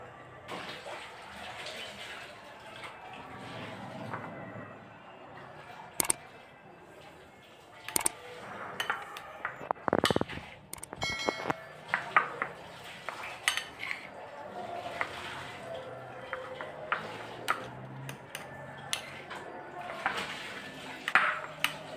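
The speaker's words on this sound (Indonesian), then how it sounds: "Kita aduk lagi sampai merata." A fishing bait mixture for pond carp is stirred after essence is added, giving scattered scraping and sharp clinks of a utensil against a container, with intermittent wet stirring sounds at close range.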